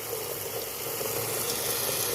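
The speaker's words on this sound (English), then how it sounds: "I can hear this trickling out down there." Steady, soft rush of water trickling through a main sewer pipe inside a wall, a continuous hissing flow heard alone at moderate level.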